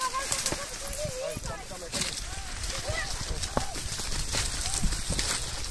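Hoofbeats of a horse at a goat-catching event clop in an irregular rhythm under shouting and loud talk from people close by, with crowd noise throughout.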